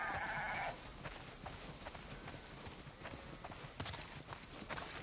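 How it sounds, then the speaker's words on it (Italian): A large flock of sheep in the video game The Last of Us Part 2 moves past with soft clattering hooves and occasional faint bleats, quiet and spread out over a low background hiss. "Wow, sono tantissime pecore."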